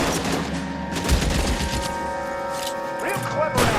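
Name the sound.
gunfire in the video game L.A. Noire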